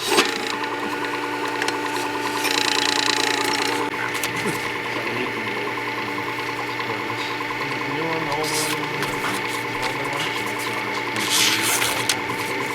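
A Work Sharp WS3000 sharpener whirs continuously as a chisel is ground against its spinning abrasive disc, with scraping and grinding surges throughout and a voice heard faintly.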